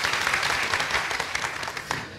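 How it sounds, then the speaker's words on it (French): Brief burst of dense, steady audience applause for a group member being introduced at a public gathering, filling the whole moment before tapering slightly. "Je vous demande un tonnerre d'applaudissements pour mon petit frère Sébastien Faye."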